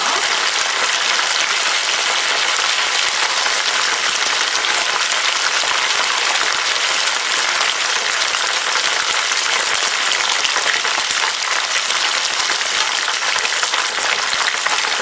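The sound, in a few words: deep frying fish in oil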